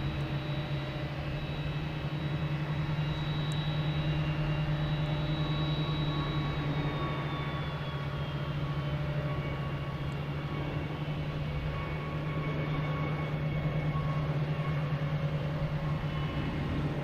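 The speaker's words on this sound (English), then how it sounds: "next we have Shamrock A321neo heading to Shannon." An Aer Lingus (Shamrock) Airbus A321neo jet bound for Shannon takes off at Boston Logan Airport, a steady loud engine roar with a droning hum and a high whine that slowly drops in pitch, heard from nearby without speech.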